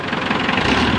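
A Mitsubishi 4D56 diesel engine idles steadily just after starting, with a close, continuous low rumble and a rapid rhythmic knock.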